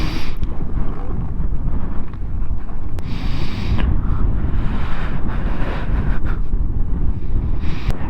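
Strong wind buffets the microphone on Hartside Pass, a steady, loud roar with low rumbling gusts running throughout and no voices.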